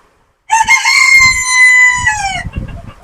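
A silkie rooster on a farm lets out one loud, close crow that starts abruptly after a brief silence, holds a long, steady, harmonic-rich note and then trails off with a lower, fading tail.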